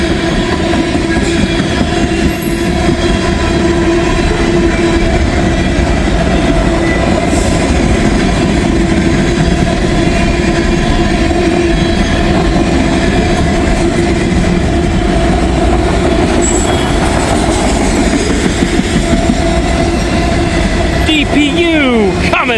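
A long freight train with a DPU mid-train locomotive rolls steadily past nearby, boxcars, lumber cars, empty ethanol tankers and a new grain hopper clattering continuously over the rails, with a brief wheel squeal near the end.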